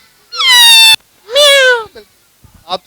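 Children imitating a cat with two long, loud, high-pitched meowing calls, the second sliding downward in pitch, followed by a few short, fainter voiced sounds close to the microphone.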